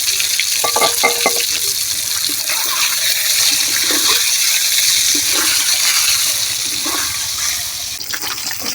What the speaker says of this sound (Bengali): ডিমটারে একটু সিদ্ধ দিয়ে লবণ হলুদ মাখাই একটু তেলের ঘরে দিয়ে উঠে রাখবো।